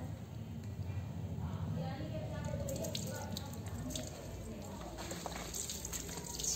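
Warm water runs and drips over a Lhasa Apso during a bath, a continuous soft splashing and trickling with people talking nearby.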